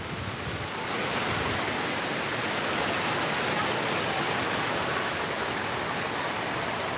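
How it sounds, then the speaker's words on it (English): A large fountain at Epcot splashes in a steady, dense rush of falling water, loud and continuous throughout with no voices. "Got the beautiful fountain here."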